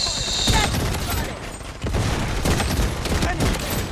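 Desert Eagle pistol with a gold glitter skin firing in Blood Strike, a close-range shooter game: dense, loud repeated gunshots that run through the whole stretch, with brief cracks and booms stacked close together.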